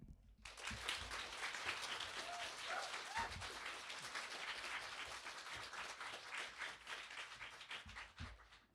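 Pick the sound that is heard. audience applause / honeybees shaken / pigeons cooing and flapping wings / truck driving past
audience applause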